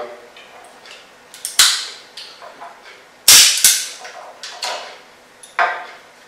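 A chrome Ekol Viper 2.5 signal pistol, with a six-shot steel cylinder and a flame splitter in the barrel, fires several sharp, loud cracks that ring and echo. Smaller clicks and handling knocks fall between the shots.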